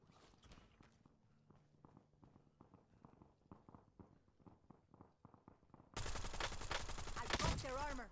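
Gunfire in a video game shooting round with target practice, starting as a quiet run of steady rapid shots that then bursts into a loud, dense volley of fire near the end.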